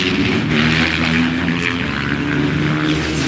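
A supermoto motorcycle engine at a classic car show in Perth, a loud, continuous droning roar with a steady low throb that holds at a constant level throughout.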